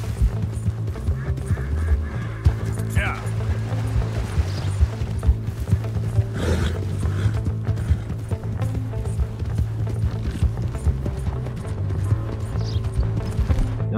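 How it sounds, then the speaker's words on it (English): Rhythmic clip-clop of horse hooves galloping steadily throughout in Red Dead Redemption 2, with a low rumbling background and occasional faint other sounds. "After all, Mrs. Jeff is the fastest horse in the West"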